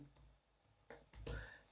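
Keys on a computer keyboard tapped while entering an Aadhaar card number online, a few sparse quiet clicks followed by a brief cluster of faster presses and a sharp louder hit at the end.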